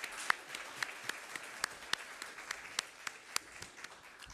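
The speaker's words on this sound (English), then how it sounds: "please join me to applaud the panel for being disciplined and comprehensive" A small audience at a finance masterclass on African capital markets applauds the panel with sparse, distinct claps at a steady pace, fairly faint and without talk.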